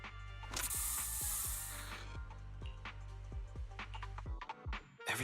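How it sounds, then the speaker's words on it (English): A special Bangbu spray fires in the Zenless Zone Zero video game, a hissing burst for about two seconds followed by a series of clicking, ratcheting mechanical pops, moderately loud with no talk. "Here, have a taste of the special Bangbu spray."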